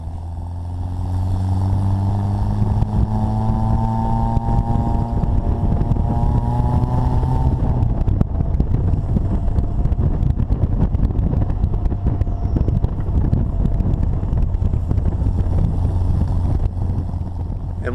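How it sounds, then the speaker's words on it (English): A five-speed Austin-Healey Bugeye Sprite with a 948 engine drives along, its engine note rising through the gears and then holding a steady loud drone with wind rush, heard from inside the car. "there you can see me engage first gear while still rolling"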